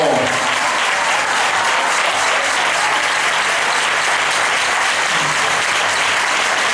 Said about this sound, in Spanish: nos están aplaudiendo